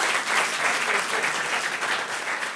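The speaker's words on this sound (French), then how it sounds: "Applaudissez très fort pour Joris Takam." A crowd claps steadily and loudly, a dense wash of applause that holds throughout without pause.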